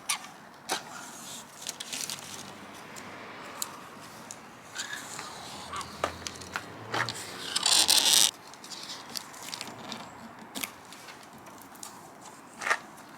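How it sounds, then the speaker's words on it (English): Red adhesive tape is pulled off a Maxton spoiler cap on a 2023 Skoda Octavia vRS Mk4, giving scattered close crackles, taps and handling noises, with a longer rasping peel near the middle. "I'm going to pull the rest of that red tape so it's completely stuck"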